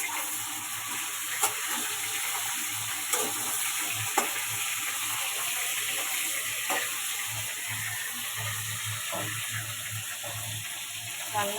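Kargil sea fish sizzles in hot oil in a wok, a steady broad frying hiss with occasional clinks and scrapes as the pieces are turned, close and continuous throughout.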